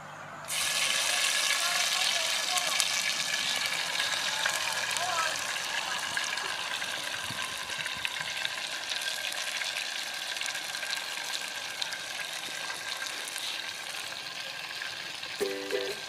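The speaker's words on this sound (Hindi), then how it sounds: "अभी हमारा तेल बहुत गर्म हो चुका है, उसमें डाल देंगे मटन" Mutton dropped into very hot mustard oil sizzles steadily and loudly, a dense broadband hiss holding for the whole stretch with no talk over it.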